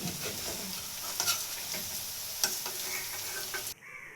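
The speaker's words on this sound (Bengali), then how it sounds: "বন্ধুরা, ভাজা শেষ, এখন আমি তুলে নিচ্ছি।" Oil sizzles steadily as cabbage fritters fry, with a few light clicks and scrapes of a utensil, then the sound cuts off near the end.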